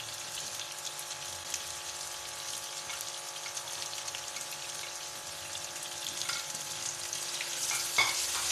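Tomatoes and spices frying in a pan for aloo gobi, giving a steady, dense sizzle that holds evenly throughout and swells slightly near the end, close up with no voices.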